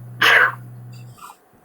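A single sharp sneeze, deliberately performed by a person imitating the sound as a demonstration, bursts out close and loud, followed by a soft breathy exhale, over a steady low electrical hum.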